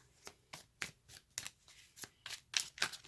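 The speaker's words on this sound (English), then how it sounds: "Shuffle a few more times." Tarot cards being shuffled by hand during a reading, with about ten soft, evenly spaced riffling snaps in a steady rhythm, quiet and close with no voices.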